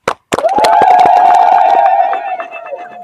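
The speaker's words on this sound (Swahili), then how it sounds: "naomba tuwapigie makofi mengi sana watu wetu wa Lowassa." A crowd at a public project handover event in Tanzania erupts after a brief pause into a loud, sustained collective cheer and shout that holds for about two seconds before fading.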